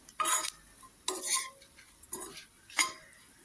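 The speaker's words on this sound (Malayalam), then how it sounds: "ഇനി ചൂട് കുറച്ച് അങ്ങോട്ട് വറുത്തെടുക്കാം." A spoon scrapes and stirs breadfruit masala roasting in a pan, four distinct metallic scraping strokes spaced about a second apart, close and fairly quiet against a low background.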